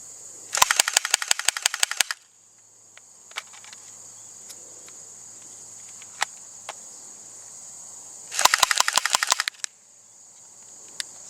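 Walther P99 electric airsoft blowback pistol firing fully automatic: two rapid bursts of sharp clicking shots, one near the start and one near the end, with a few isolated clicks between over a steady high electrical whine.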